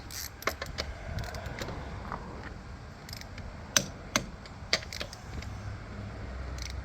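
Wheel nuts on a Hyundai Elantra being torqued, a series of faint ratcheting clicks and several sharper metallic clacks from the wrench over quiet background hum.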